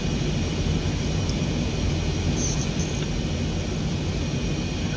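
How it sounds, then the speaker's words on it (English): Jet engine roar in a flight simulator game plays as a steady, loud, continuous broadband drone with a faint high whine, unbroken and without speech. "Trying to get like a happy medium because this jet is quite loud."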